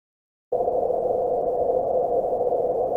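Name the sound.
tone filtered through white noise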